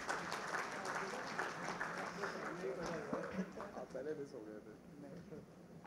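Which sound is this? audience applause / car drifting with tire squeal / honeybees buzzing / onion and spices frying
audience applause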